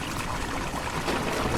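Water drains steadily off a farm yard in Drain Sim, a continuous rushing and trickling flow that stays loud and even from start to finish with no talk over it.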